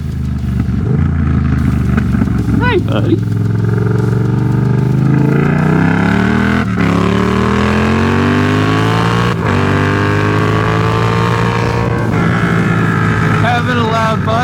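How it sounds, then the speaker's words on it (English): A Surron electric-style dirt bike fitted with a loud exhaust drones and revs steadily up close, rising and falling in pitch, while a rider briefly speaks over it. "Having a loud bike with a loud exhaust like this makes it easier to be seen"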